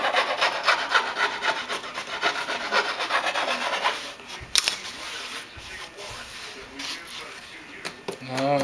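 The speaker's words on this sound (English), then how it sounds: "just take my file and just rub it a little bit" A file rubs back and forth over the foam hinge of a composite model plane wing, giving a dense, steady rasping scrape for about four seconds that then thins into lighter, intermittent scratches and taps, close and fairly loud.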